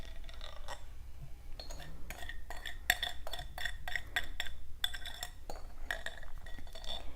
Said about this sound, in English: And we just want to stir this until it's combined.